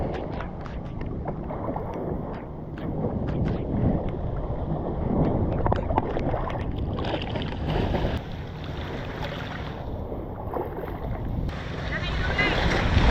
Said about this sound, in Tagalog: Talagang bagyo na.